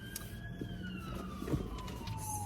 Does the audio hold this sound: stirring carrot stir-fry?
no